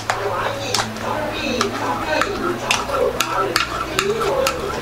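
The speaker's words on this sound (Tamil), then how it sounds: "இதை நல்லா மிக்ஸ் பண்ணிக்கோங்க." Mango pulp being stirred into a thick kulfi mixture: repeated spoon scrapes and soft clinks against the vessel at an uneven pace, close by, with a voice talking underneath.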